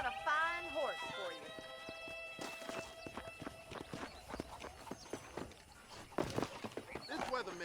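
Horse hooves clip-clop at a steady walking rhythm in the Red Dead Redemption game on Nintendo Switch, close and clear, with music and characters talking over them.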